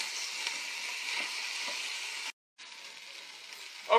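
Onions and spices with cayenne frying in an Instant Pot, a steady hissing sizzle that drops out briefly for a moment before resuming, ending with a short clink.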